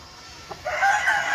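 A fighting rooster lets out a single crow, rising after a brief lead-in and held loud and close to the end.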